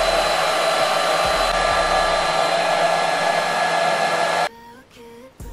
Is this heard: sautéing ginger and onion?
no